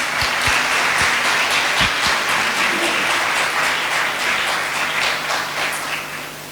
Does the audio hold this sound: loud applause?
yes